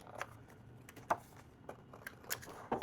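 Scissors snip through the corners of a composition book being altered into a journal, a few short, distinct cuts spaced irregularly and heard close up with no talk.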